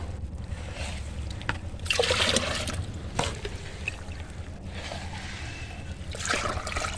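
Homemade liquid organic fertilizer poured onto large cabbage and cauliflower plants in a garden bed, a steady close trickle and splash of liquid hitting leaves and soil, swelling in short bursts.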